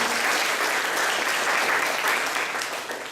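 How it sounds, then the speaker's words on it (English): An audience at a Toronto humanitarian presentation for a Honduras project claps steadily, a dense, loud wash of applause that fades slightly toward the end. "Round of applause for everyone."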